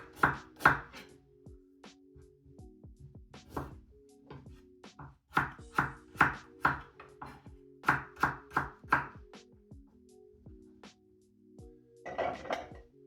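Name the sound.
slicing ginger on a chopping board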